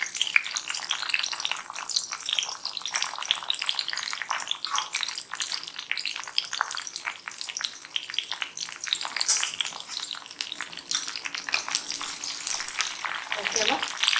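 Green chillies, dried chillies and garlic frying in a pan make a steady crackling sizzle with bursts of stirring and spattering, close by. A voice talks over part of it.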